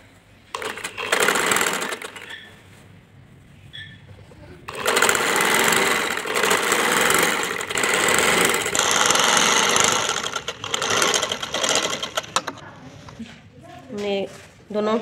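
A sewing machine stitching a fairy-style frock, running in bursts of fast, steady whirring and clatter separated by pauses, with someone speaking between and over the stitching.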